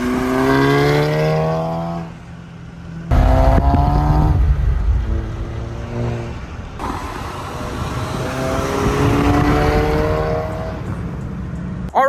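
Modified VW Mk7 GTI engine revving hard and repeatedly bouncing off the rev limiter, loud rising drone with abrupt cut-offs and short pauses between pulls.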